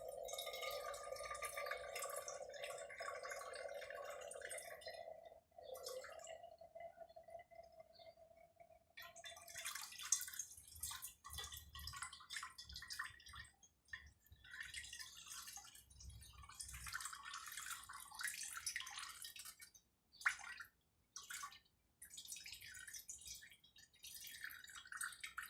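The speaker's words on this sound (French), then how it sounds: "je suis en train de le verser complètement, de le vider donc dans le récipient" Fuel drains from a car fuel filter into a container, a faint thin trickle and intermittent drips that start as a steady pour, then break into sporadic splashes and dribbles.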